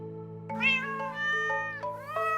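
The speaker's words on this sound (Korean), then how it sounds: "Cats are everywhere." Cats on a farm meow up close in long, drawn-out, wavering cries that run almost without a break, with no talking.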